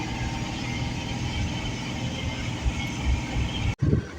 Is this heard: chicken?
no